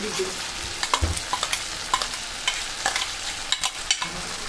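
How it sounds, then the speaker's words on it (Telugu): Green chili paste sizzles and fries with onions in a hot pan while a utensil scrapes and stirs it in quick, uneven strokes, close and clear. "ఆనియన్స్ మగ్గాక ఇందులో మనం మిక్సీ చేసి పెట్టుకున్న పచ్చిమిర్చి పేస్ట్ వేసుకోండి"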